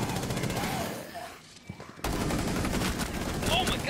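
Pistol gunfire in a video game cracks out in rapid bursts, stopping briefly and then resuming, with a voice talking at points.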